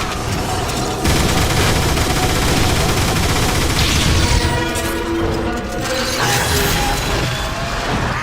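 Dense, sustained gunfire and mechanical crashes from the Transformers: War for Cybertron video game, loud and continuous with booming impacts and metallic clatter throughout.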